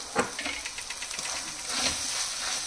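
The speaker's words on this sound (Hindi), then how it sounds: "इसको आलू के साथ भी थोड़ी देर भूनेंगे।" Boiled potatoes frying with masala in a pan for street-style pav bhaji give a steady soft sizzle with light stirring scrapes, close and moderately quiet, with no talking.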